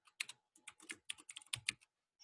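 Rapid clicking of keys on a computer keyboard, close and quiet, in quick uneven bursts with brief pauses and no talking.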